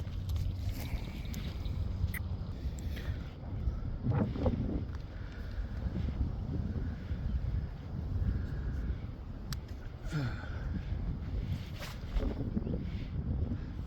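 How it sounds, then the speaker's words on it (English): Wind gusting across a fishing pond, a steady rumbling buffet of low noise against the microphone with occasional louder surges and faint knocks, no talk. "Now we're getting into a little bit of wind here."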